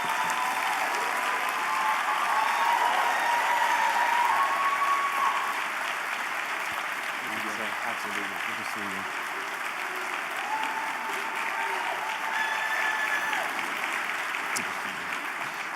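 A town hall audience welcomes Congressman John Lewis with long, loud, sustained applause and scattered cheers from a large crowd.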